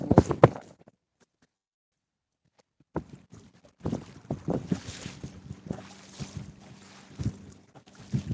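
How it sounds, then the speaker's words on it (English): Gusty wind buffets the microphone out on a fishing boat in a strong headwind, arriving in rough broadband bursts after a brief quiet gap, with bumps and water noise from the boat mixed in. "this headwind is something else"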